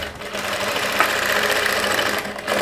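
A sewing machine stitching the front piece of a princess-cut padded blouse runs in a continuous, even mechanical whir, fairly loud and close, with no talking over it.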